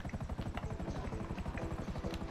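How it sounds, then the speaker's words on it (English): Helicopter in a video game, a steady rapid rotor chop with a low droning engine that holds at a loud, constant level throughout. "I can't fly a chopper"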